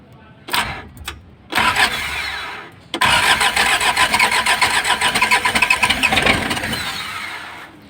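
An old Isuzu engine in a junked body cranks in a few short attempts, then catches and settles into a loud, rough, pulsing idle close by.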